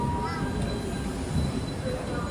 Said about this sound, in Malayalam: 5:20 ട്രെയിൻ ഇപ്പം ഇതാ അഹമ്മദാബാദ് ജംഗ്ഷനിലേക്ക് എത്തുകയാണ്